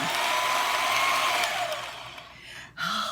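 An electric kitchen mixer whirs steadily, beating butter and cream cheese for an old-fashioned carrot cake, loud and close; the motor slows and cuts out near the end, followed by a brief clunk.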